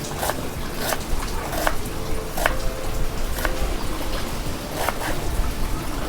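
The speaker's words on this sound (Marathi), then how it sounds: "बारीक बारीक कांदा कापून घ्यायचा" Close, regular taps of a sharp knife finely chopping onion on a board, each cut crisp and evenly spaced over a soft background hiss; no voice.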